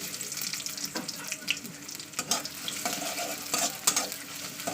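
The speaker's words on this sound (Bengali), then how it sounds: "তেলটা গরম হয়ে গেছে, দিয়ে দিচ্ছি পেঁয়াজ।" Onions frying in hot mustard oil for a spinach and prawn dish, a steady, fairly quiet sizzle with scattered stirring scrapes and clicks, close by and without speech.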